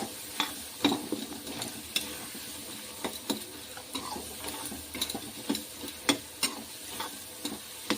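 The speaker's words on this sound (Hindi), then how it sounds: "ऐसे धीरे धीरे करके बार बार चलाते रहेंगे, इससे टमाटर बहुत अच्छे से पक जाएंगे" Tomatoes cook in a pan, stirred again and again, with a soft continuous sizzle punctuated by crisp scraping clicks of a spoon at an uneven, unhurried rhythm.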